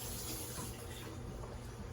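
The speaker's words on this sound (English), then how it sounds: "Now to this, I'm going to add a can of water." Water poured from a can into a pot of Texas-style chili gives a faint, continuous splashing trickle lasting a couple of seconds, quiet and without talk.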